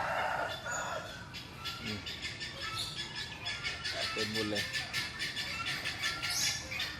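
Poultry calls from turkeys and peafowl, loud repeated gobbling and crowing-like cries near and far, with a person speaking briefly underneath.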